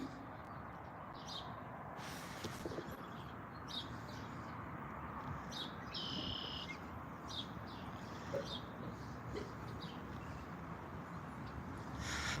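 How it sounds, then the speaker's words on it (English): Birds chirp and sing outdoors on a morning, faint scattered tweets over a steady soft background hiss, distant and quiet. "listening to the birds sing"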